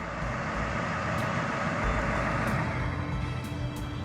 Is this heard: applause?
no